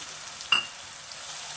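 Tomato paste goes into hot oil with fried onion, garlic and ginger, making an even sizzle broken by one sharp metallic clink of a spoon against the pan.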